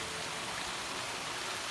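Heavy rain pours steadily outdoors in hilly country, a constant broadband hiss with no breaks and no voices, fairly distant and even throughout.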